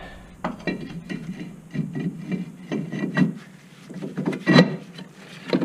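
A new brake rotor on a Nissan Frontier is slipped onto the hub, giving a series of close metallic scrapes, knocks and rubbing clunks in short bursts, with one louder clank near the end.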